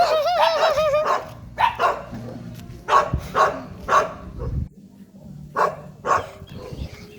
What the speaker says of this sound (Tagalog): ang raming aso dito guys.